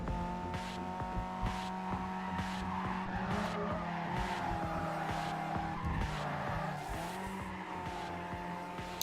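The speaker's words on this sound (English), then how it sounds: "I'd say I like this engine sound." A Nissan 240SX racing in Need for Speed Carbon, with a steady engine drone and tire squeal over continuous road noise, sustained for several seconds at moderate level with no talking.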